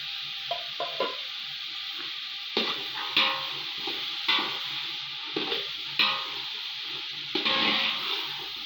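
Boiled chickpeas stir-fried with green chillies and pickle give a soft steady sizzle, punctuated every second or so by a spoon scraping and tapping the pan.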